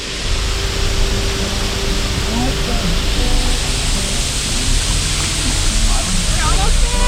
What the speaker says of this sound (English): You just drove across the waterfall.